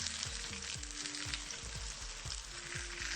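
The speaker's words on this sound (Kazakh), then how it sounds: "Енді бұл майымыз ысығаннан кейін осылай әр кесіндісі осылай салып қуырып аламыз." Chicken breast pieces fry in hot oil in a pan, giving a steady close sizzle with soft rhythmic thumps and spatters running throughout.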